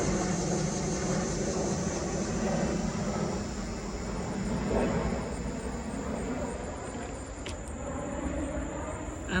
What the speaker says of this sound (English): See this plane? I don't know if we can catch the airplane.